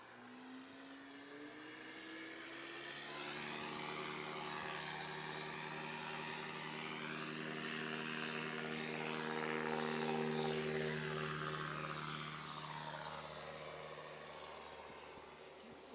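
A Super STOL aircraft comes in steeply to land at a fly-in STOL competition, its propeller and engine drone rising and swelling loud and near, then easing off slightly toward the end.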